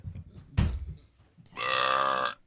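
A long, loud burp rolls out close to the mic at a podcast recording, with a brief vocal grunt and breathy noise a second before it.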